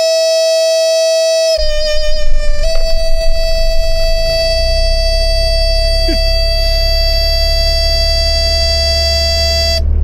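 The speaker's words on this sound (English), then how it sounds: "That's my brakes." A van's brakes squeal while driving in a rainforest: a loud, sustained high-pitched whine starts after a brief pause, shifts pitch once, then holds steadily over low road rumble to the end.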